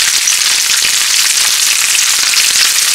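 Stuffed mussels (arikadukka) frying in hot oil give off a loud, dense, continuous sizzle and crackle that stays steady from start to finish, with no voices.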